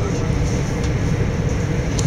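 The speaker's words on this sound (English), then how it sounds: "We're on the first train to London." Steady rumble and low hum inside a moving train to London at sunrise, a continuous close interior drone with faint higher whines and no voices.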